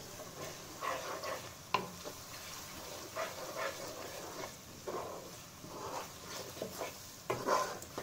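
Red chili powder masala being stir-fried in a pan for egg biryani: a faint, quiet sizzle with irregular scraping stirs and occasional soft knocks spread across the clip.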